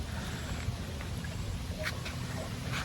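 A duck quacks a few times in a farm setting, faint and partly masked by a constant background rumble.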